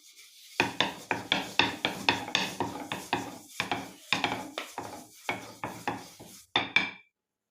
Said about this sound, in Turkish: Hemen şimdi ilk bezemizi açmaya başlıyorum.